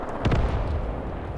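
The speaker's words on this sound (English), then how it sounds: "More off-map artillery dropping here." Off-map artillery shells landing in the WWII tactics game Graviteam Tactics Mius Front, a couple of quick blasts close together followed by a low rolling rumble fading into background noise.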